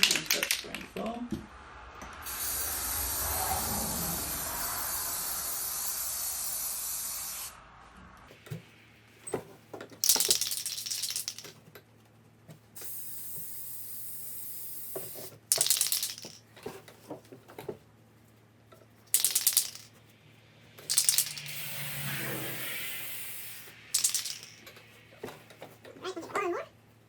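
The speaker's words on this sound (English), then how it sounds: "we're going to start spraying foam" Spray adhesive hisses from a can in one long, steady burst while acoustic foam is being installed, then gives way to short intermittent spray bursts, tapping and handling sounds, with a person talking between them.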